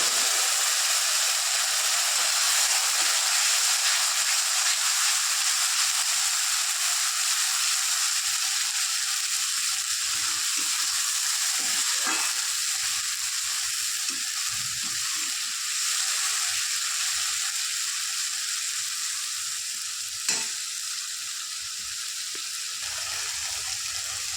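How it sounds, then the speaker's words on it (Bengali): Spices tipped into a pan of fried onions, giving a continuous broadband sizzle that stays fairly even for the whole stretch, with a couple of brief clinks of a utensil. "পেঁয়াজটা ভাজা হয়ে গেছে, এইবার আমি মশলাটা দিয়ে দেব"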